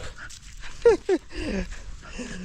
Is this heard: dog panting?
yes